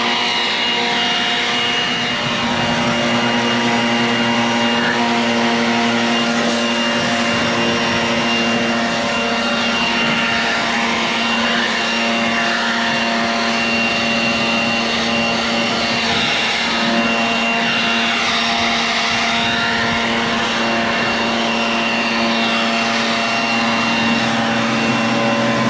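A John Deere 335P compact track loader drives an FAE forestry mulcher on a hot, dry, dusty day, its engine and rotor roaring loud and steady with a continuous droning whine that shifts slightly under load, no voices.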